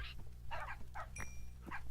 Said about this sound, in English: So my dogs are just over there.